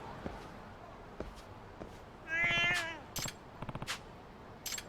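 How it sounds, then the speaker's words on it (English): A cat meowing in the video game Lost Judgment, one clear drawn-out meow followed by a few short chirping mews, close and alone over quiet footsteps and faint background. "The third kitty."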